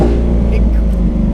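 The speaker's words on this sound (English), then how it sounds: "It's that raspy, snappy way of blipping the throttle when you request the downshift on the pedal behind the steering wheel." A Lamborghini Aventador S Roadster's engine, close and loud, gives a short, dense, raspy throttle blip during a downshift, a steady harmonic roar held for just over a second.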